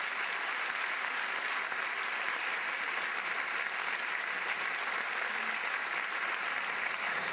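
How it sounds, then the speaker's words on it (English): A steady, dense round of applause for a new superintendent fills a Teacher of the Year ceremony hall, even in loudness throughout with no talk. "take a moment and applaud your new superintendent for a job well done"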